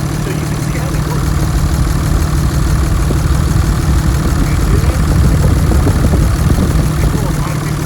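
A Cummins 5.9L 24-valve diesel idles loud and close with its valve cover off, a constant rumbling clatter from the exposed rockers and pushrods that holds steady throughout with no pauses.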